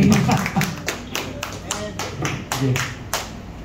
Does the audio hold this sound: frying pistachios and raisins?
no